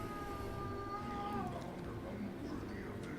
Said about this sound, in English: We have an angry foster kitten.